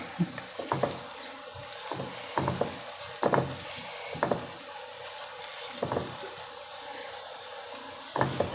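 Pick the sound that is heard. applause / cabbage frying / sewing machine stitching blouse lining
cabbage frying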